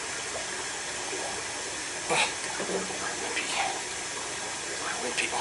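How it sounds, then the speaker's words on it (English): Water gushing and splashing steadily out of a leaking large aquarium after the filter valve is shut, a loud continuous rush with a few brief louder splashes, and a voice says a word. "That way hopefully less water will come pouring out."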